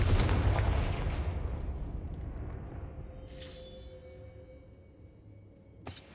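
A fire spell blast in Hogwarts Legacy opens with a loud burst that rolls off into a long fading rumble, followed by a couple of brief crackling bursts and a sharp pop near the end.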